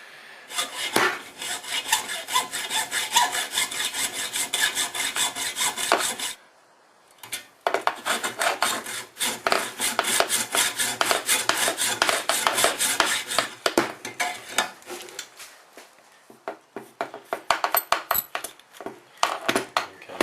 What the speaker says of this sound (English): I'll set the hacksaw up so that it's ready to cut from the inside outwards.